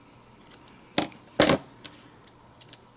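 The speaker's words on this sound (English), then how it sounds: "So I'm just going to trim off a little bit." Scissors trimming paper for a handmade card: two distinct close snips, the second longer, with faint small clicks around them in a quiet room.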